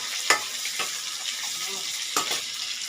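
Chopped onions frying with a bay leaf in a pan for chicken kasa, a dense close sizzle punctuated by a few sharp stirring scrapes, without any speech.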